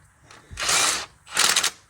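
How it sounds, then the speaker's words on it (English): A ratchet spins a bolt down during an in-frame engine rebuild on a John Deere 4440 tractor, two short close whirring bursts with a brief pause between and no talking. "we're gonna run that last bolt up"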